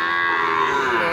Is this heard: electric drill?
no